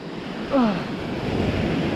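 Surf washes onto a beach while shore fishing, a steady broad roar of waves with wind buffeting the microphone and a brief whirring sweep near the start.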